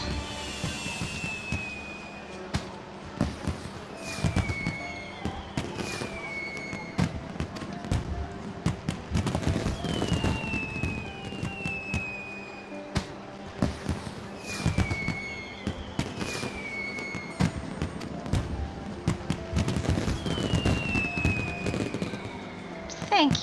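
In-game fireworks in Final Fantasy XIV crackle and pop repeatedly, with whistling rising trails and bursts layered over continuous festive background sounds across the whole stretch.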